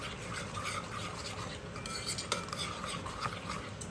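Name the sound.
stirring chicken tikka marinade mixture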